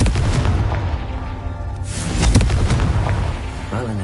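Confringo fire spell from Hogwarts Legacy bursting with a loud, booming explosion amid continuous game effects, with a sharper blast near the middle and a rumbling tail.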